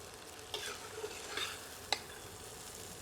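Chicken frying in ghee with spices, sizzling steadily while a spoon scrapes and stirs it in a few distinct strokes. Quiet and close, with no voices.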